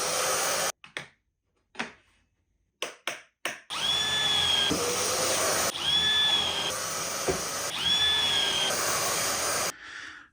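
Drilling pocket holes through a pocket hole jig into scrap MDF, plywood or CLS timber: a few short drill bursts, then a long sustained run of whining drilling with pitch dips as the bit bites, loud and close.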